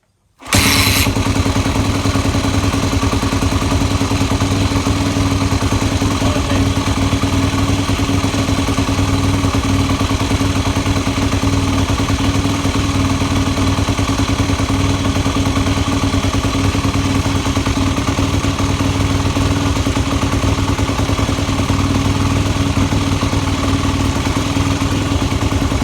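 A 2002 Yamaha WR250F four-stroke dirt bike fires up after a kick start and keeps running with a steady, loud idle close by for the rest of the stretch, no voices over it.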